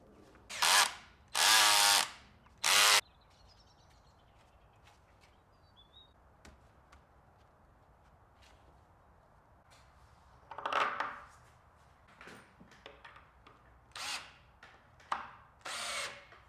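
Three short, loud bursts of a power drill grinding into brick, fitting door frame fixings in a barn, then quiet with faint rustles before more scattered drilling bursts near the end.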